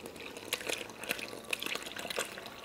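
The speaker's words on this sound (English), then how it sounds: "Now we'll pour that into the well and the dry ingredients." A mixture of sour cream and honey is poured into a well in dry ingredients for wheat dinner rolls, giving a soft, steady wet splashing with small clicks and drips throughout.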